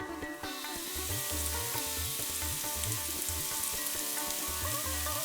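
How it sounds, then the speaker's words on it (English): Julienned carrots fry in oil on a hot pan, a steady, close sizzle running evenly throughout while music plays underneath. "I'm cooking our julienne carrots in some oil on a hot pan here, just for a couple minutes until they're soft."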